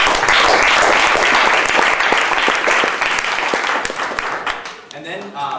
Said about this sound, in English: So if everyone should just give another round of applause for Tyler here.